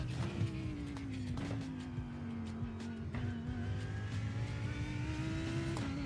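Lamborghini GT3 race car engine in the iRacing sim: a steady high-revving drone with shifting pitch, brief gear-change dips and faint tire squeal, loud and continuous throughout.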